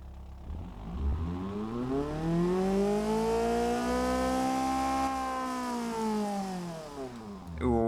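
A cheap car's engine with a downgraded, straight-through muffler revs in BeamNG.drive, a rising then sustained harmonic drone that swells loudly for several seconds before easing off.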